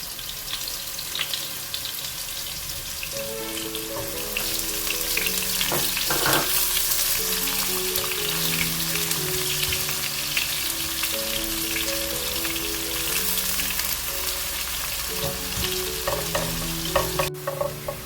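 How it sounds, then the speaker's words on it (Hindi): Onions sizzle steadily in hot oil in a home kitchen pan, a continuous close crackling hiss with occasional stirring scrapes and faint background music. "प्याज ऐड कर देंगे। ऑयल गरम है इसलिए प्याज भी जल्दी हो जाएगा।"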